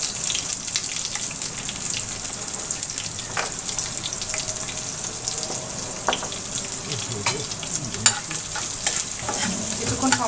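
Chopped onion fries in hot oil in a pan with a dried red chilli and whole cumin, giving a steady, dense sizzle throughout with occasional faint clinks and a brief trickle of water in the background.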